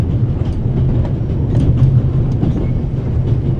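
A train rolls steadily on rails in The Raven Remastered video game, a continuous low rumble with faint clickety-clack from the wheels, loud and close, with no talk.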